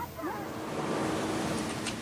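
Surf washing steadily onto Temae beach in French Polynesia, a continuous broadband wash lasting about two seconds with faint voices mixed into the background.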